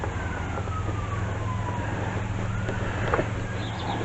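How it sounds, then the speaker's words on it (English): An ambulance siren wails in the distance with a slow falling and rising tone, faint over a steady low rumble of outdoor background noise. "There's an ambulance by the sound of it."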